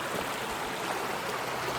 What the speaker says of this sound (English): So you can see this is a lot of water coming down here